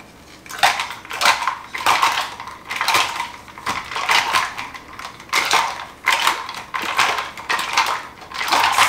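Watermelon and ice are crushed for a martini in a series of rhythmic grinding, clinking strokes, roughly one every half second to second, close and loud with no voices.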